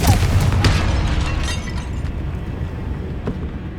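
The Confringo fire spell detonates in Hogwarts Legacy inside a tomb, a loud, close, booming blast with crackling debris that rolls into a long, dense rumble fading slowly.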